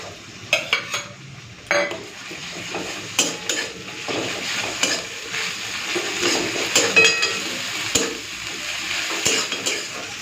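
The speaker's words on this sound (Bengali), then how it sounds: "তো এখন এই আদা রসুনটাকে একটুখানি ভেজে নিচ্ছি পেঁয়াজের সাথে" Ginger garlic paste frying with onions in a pan, a soft continuous sizzle broken by repeated clinks and scrapes of a stirring spoon against the pan, close and fairly loud, with no talking.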